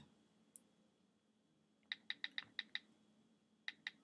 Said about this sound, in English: I'm just typing it up for you guys.